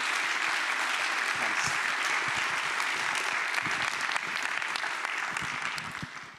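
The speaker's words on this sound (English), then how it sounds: "could you give a big thunderous round of applause to Katrina Crowe" Audience applause at a talks event in Galway, a dense, continuous wash of many hands clapping that holds steady throughout and begins to fade at the very end.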